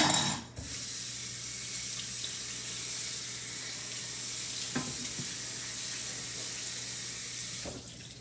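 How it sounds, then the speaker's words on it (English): Tap water runs steadily into a kitchen sink while something is rinsed under it, a continuous hiss with a couple of brief clatters and no talking. "let me rinse this off again."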